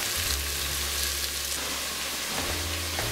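Garlic added to onions in a hot pan, a loud, steady sizzle like rain on a surface that runs unbroken from start to finish, with no voices.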